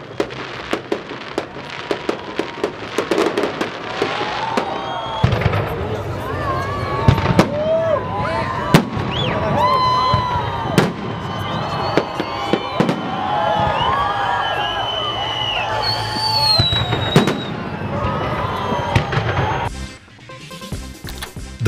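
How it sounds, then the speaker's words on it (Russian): Fireworks burst continuously at a public celebration in Chita, with sharp cracks, booms and whistling streaks over a noisy crowd, ending abruptly near the close. "ровно в 23:00 небо озарил фейерверк"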